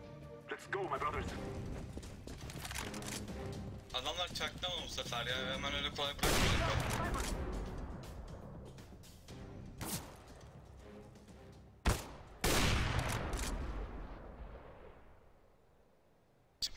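Gunfire in the shooter game CS-GO, with bursts of shots and loud heavy blasts spread across the stretch, mixed with game sounds and a person talking over much of it.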